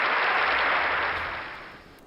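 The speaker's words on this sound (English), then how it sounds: "Oh no, it's applause." A short burst of applause, a dense crowd clapping that fades away over a couple of seconds.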